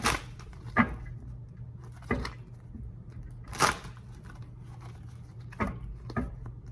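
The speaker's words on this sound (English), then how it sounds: "let's going to do a couple more shuffles" A deck of tarot cards is shuffled several times by hand, each shuffle a short, crisp riffling burst separated by quiet pauses, close and fairly soft with no talking.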